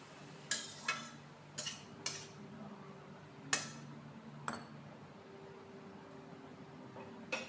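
Fried eggplant and fish being stirred and coated in a pan with a spoon, producing a handful of sharp metallic clinks and scrapes at irregular intervals over a faint steady background, with no talking.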